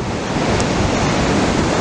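Ocean surf rolls steadily onto the beach at Anglet, a dense continuous roar of breaking waves with wind buffeting the microphone, loud and close with no voices.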